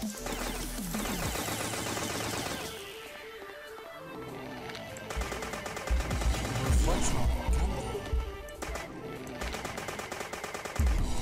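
Gunfire in the video game Dead Bits rattles in bursts alongside sweeping synthetic game tones and music, growing louder and denser in the second half.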